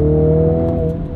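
A 2021 Mini Countryman John Cooper Works with all-wheel drive pulls hard on a launch-control start, its engine a loud, steady droning whine heard close up from inside the car, with no talking.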